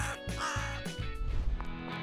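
A crow caws several times in a harsh, raspy series, fairly close and loud, with no talking.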